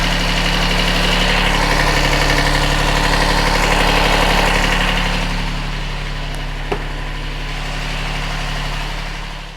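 A tiny tractor's small engine idles steadily during a quick service, running to charge its battery; a continuous low, even drone holds close throughout with a brief click near the end.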